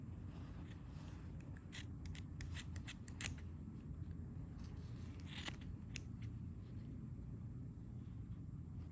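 Scissors snip through yarn loops for a crochet pom-pom, a scatter of quick, close, crisp cuts over a low steady background rumble.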